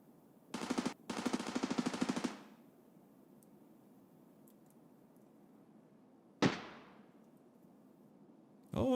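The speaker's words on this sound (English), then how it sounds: "Sounds like an SR-25 as well." SR-25 semi-automatic rifle fire in Escape From Tarkov, heard as two rapid bursts of loud, closely spaced shots early on, followed later by a single sharp, more distant crack with a short echoing tail.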